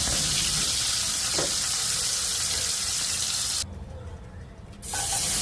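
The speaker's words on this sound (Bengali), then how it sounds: "ডাঁটাগুলি 2-3 মিনিট ভেজে এরপর তুলে ফেলব রসুন এবং ডাঁটা" Garlic cloves and drumstick stalks fry in hot oil for a Bengali moong and masoor dal dish, a loud steady sizzle that drops away briefly and then returns.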